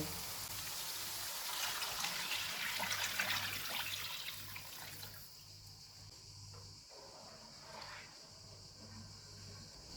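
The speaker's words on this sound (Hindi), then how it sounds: "6 कप पानी डालेंगे।" Six cups of water poured into a pot of chana dal soaked for four hours, a loud rushing splash for about five seconds that drops to quieter trickling and bubbling.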